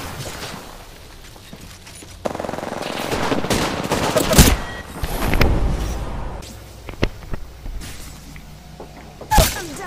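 Gunfire in Apex Legends Arenas mode, with bursts of automatic weapons and single heavy shots, sharp cracks and booms, some near and loud, others more distant, over footsteps and game noise.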